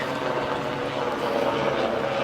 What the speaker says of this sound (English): Helicopters out there.